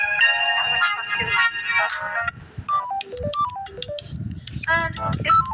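Two Samsung Galaxy A14 ringtones in succession: a dense chiming tune that cuts off, then a bouncy descending run of electronic beeps and plucked notes, loud and near over soft low rumbling.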